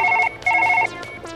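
A telephone rings up close with a bright electronic trill, sounding in two bursts and then starting a third, with nothing else heard.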